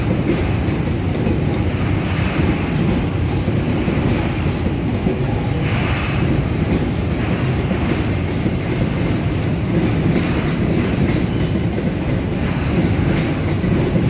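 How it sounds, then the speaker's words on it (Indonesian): A loud, steady train rumble rolls on without pause across a Dutch colonial-era bridge over the flooded Ciliwung River near Manggarai station, Jakarta, deep and heavy, with faint rhythmic clacking of wheels. "Suaranya berdetum ketika melewati jembatan yang dibangun pada masa kolonialisme Belanda tersebut."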